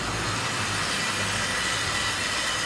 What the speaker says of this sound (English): I have this loco running just like my other Wrenn loco as well.